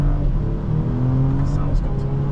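A 2024 BMW X5 xDrive40i with a ZF 8-speed automatic accelerates; the engine's hum holds steady and then steps in pitch with quick gear changes. People talk over it inside the cabin.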